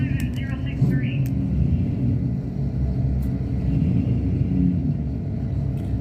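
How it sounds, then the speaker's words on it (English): Street cars lining up at the WWT Raceway drag strip during bracket racing, a constant low engine rumble and idle held throughout, with someone talking over it. "we got the street cars coming up now"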